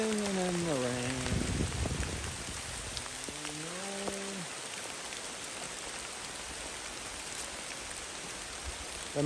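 Steady rain falls on a backpacker in the Great Smoky Mountains along the Appalachian Trail in October, a dense, even hiss running throughout, with a voice singing briefly near the start.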